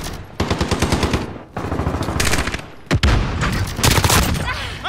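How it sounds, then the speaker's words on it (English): Loud automatic gunfire in the Call of Duty: Modern Warfare video game comes in rapid bursts with short pauses between them, all close and dense, with a heavy thump near the middle. "I'm taking fire!"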